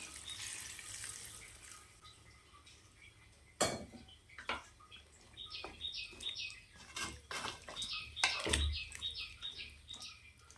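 Water pours and splashes into a pot of country chicken fry on the stove, with clanks of a metal spoon or vessel and a faint chirp of birds in the background.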